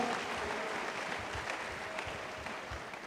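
Congregation in a church breaking into sustained applause, a dense, even wash of clapping at moderate distance lasting throughout, with no distinct voices over it.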